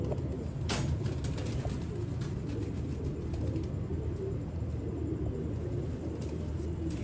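Sialkoti pigeons coo in a low, continuous murmur of overlapping calls, close and steady, with a faint rumble beneath.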